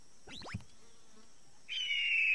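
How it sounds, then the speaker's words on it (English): Animated nature scene with a hawk call: a short, high-pitched sweeping cry rises and falls early on, followed by a sustained shrill whistling tone, all faint against a quiet background. "I hear a hawk!"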